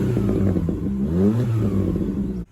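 A small car's 1.4 litre naturally aspirated 16-valve engine idles with a rough, steady drone, rising briefly in a quick rev before cutting off near the end.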